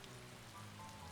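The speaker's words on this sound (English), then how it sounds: "The rain is still falling." Steady rain falls in a video game scene, a soft continuous hiss of drops on a surface with a low rumble beneath, even and unbroken throughout.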